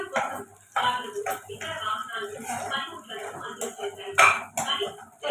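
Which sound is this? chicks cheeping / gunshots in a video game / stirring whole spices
stirring whole spices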